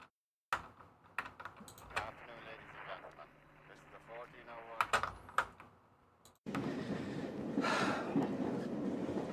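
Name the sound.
train moving in a film soundtrack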